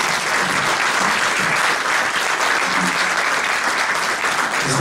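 Loud, dense audience applause welcoming an author at a book presentation event, steady and continuous clapping from a full room throughout.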